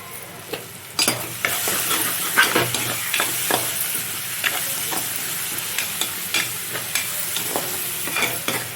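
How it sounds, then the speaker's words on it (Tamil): Fish curry masala for a mango fish curry (manga meen kulambu) sautés on a low flame, a steady close sizzle broken by repeated scraping stirs of the spatula against the pan. "சிம்மில் வச்சுட்டு வதக்கிப்போம்."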